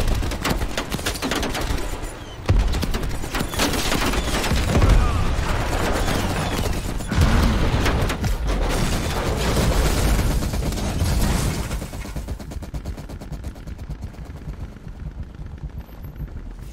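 Dense gunfire and explosions in Call of Duty Black Ops Cold War fill the mix with loud, continuous rattling bursts and booms, thinning out near the end, with voices talking underneath.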